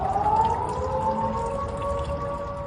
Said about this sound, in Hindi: इजराइल के हमले के बाद तेहरान में दहशत के सायरन बजने लगे।